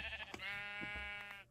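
A sheep in Minecraft bleats, a single drawn-out nasal baa lasting over a second, close and clear with little else around it.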